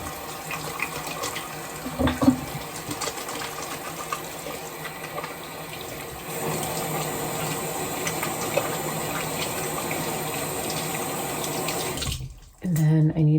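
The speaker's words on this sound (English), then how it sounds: "And then I need the water to run for a little bit." Water runs steadily from a tap into a sink as a constant rushing splash. It cuts off briefly near the end and then resumes, with a soft clink early on.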